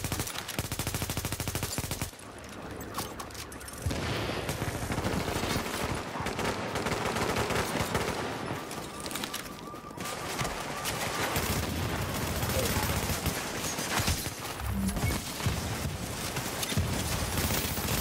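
Gunfire in a multiplayer shooter game, dense bursts of shots and rapid automatic fire continuing through most of the stretch, with voices talking over it.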